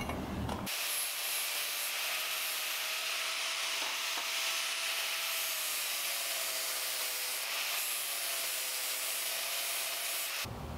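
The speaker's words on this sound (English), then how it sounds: "Looks like we just need to relieve this corner on both sides with the sander a little bit." Power sander grinding a corner of a Ford 9 inch axle disc brake bracket near a factory weld, a steady loud abrasive whine with a wavering pitch running continuously for about ten seconds.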